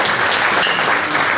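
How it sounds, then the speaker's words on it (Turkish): Applause at a farewell ceremony for a departing provincial governor, a dense, steady clapping from a sizeable indoor crowd that fills the whole moment, loud and close with no voices over it. "son olarak Sayın Halimize alkışlarımızla hakkımızı helal ediyoruz"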